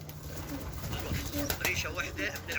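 Pigeons in a loft coo in low, repeated bursts, with brief wing flaps and faint chirps mixed in, moderately close, under some background noise.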